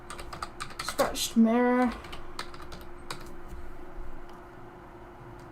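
Keys tapped on a computer keyboard while entering texture search words in Blender, light scattered clicks running through, with a short spoken word and a brief tonal sweep near the start.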